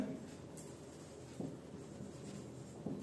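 Pen scratching across paper in a quiet classroom, soft continuous strokes with a few small taps, faint and close, no speech.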